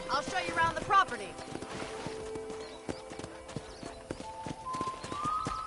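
Horse hooves clip-clop in Red Dead Redemption, a steady rhythmic trot under spoken dialogue, with a brief whinny-like call and ambient game sounds around it.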